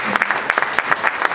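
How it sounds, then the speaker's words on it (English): A short burst of applause from a crowd at a law society conference, steady clapping at close range without talk. "avant que nous puissions inviter Françoise, s'il peut encore vous plaire d'applaudir."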